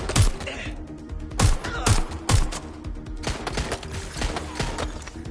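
Gunfire in the Watch Dogs Legion video game comes as loud, sharp shots, some in quick bursts and others spaced apart, over a background of continuous game noise.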